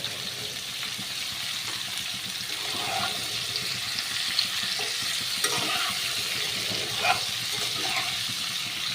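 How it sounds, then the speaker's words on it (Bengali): Cauliflower and potato pieces frying in oil with a little turmeric, a steady close sizzle with occasional stirring clinks, no voices. "ফুলকপি আলুটা ভাজা হোক"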